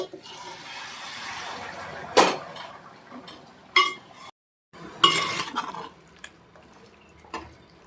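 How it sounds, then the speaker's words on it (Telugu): Hot water is poured into a pot of village-style country chicken curry (natu kodi pulusu), with a splashing pour amid a few sharp clinks of pot and utensil, close and moderately loud. "కొంచెం వేడి వాటర్ దీంట్లో గ్రేవీ కోసం మనం పోసుకోవాలి"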